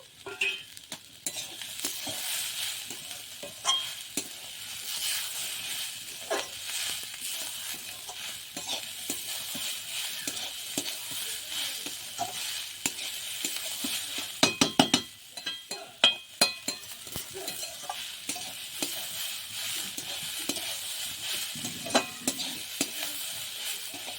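Vegetable momo filling seasoned with coriander, cumin, pepper, salt and sugar is stirred in a pan, giving a continuous sizzle with repeated spoon scrapes and clinks against the metal, louder clattering bursts midway, no talking.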